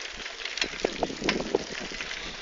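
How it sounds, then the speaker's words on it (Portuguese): Outdoor wind buffeting a microphone while riding bikes, a steady low rumble with gusty bursts throughout, no talking. "aqui tá muito vento, galera"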